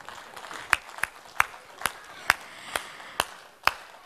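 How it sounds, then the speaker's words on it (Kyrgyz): Rhythmic clapping at a 45th-anniversary folk concert: sharp, evenly spaced claps roughly twice a second, fairly faint over a low hall murmur. "Авторларга кол чабуулар."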